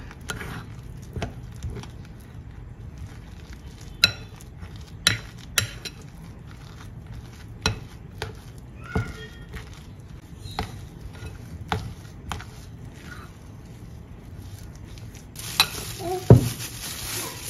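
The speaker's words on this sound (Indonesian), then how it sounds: "Kemudian ini diaduk-aduk." Irregular scraping and soft knocking of a utensil stirring thick batter just mixed with 300 ml of boiling water in a bowl, close by, with sporadic louder clacks.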